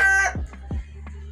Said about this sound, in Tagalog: Titingnan ko yung mga kalahit namin, mga manok.